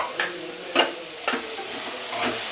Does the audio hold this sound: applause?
no